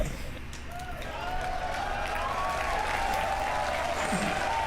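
Crowd applause during a SpaceX Starship launch broadcast, a steady wash of clapping held at moderate level under faint commentary and a drawn-out tonal whine, swelling slightly after the first second.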